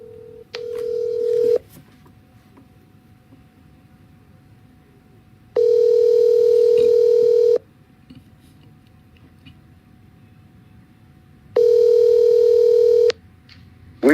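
A telephone rings in three long, loud bursts about four seconds apart, with quiet background between the rings as a call back goes through.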